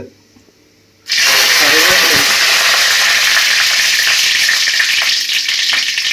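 Dried red chillies dropped into hot oil with popped mustard seeds, a loud, close, steady sizzle that bursts in suddenly after a quiet second and continues evenly with a few stirring clicks.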